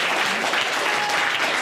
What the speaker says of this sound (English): So you got to give me a round of applause for that